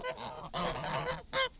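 A flock of farm geese honks loudly in several overlapping bursts, with short pauses between calls and a final strong honk, close by and without speech.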